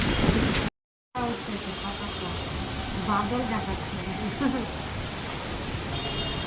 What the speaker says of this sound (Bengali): বৃষ্টিটা এখন কমছে, হাওয়া হচ্ছে, পুরা হাওয়া হচ্ছে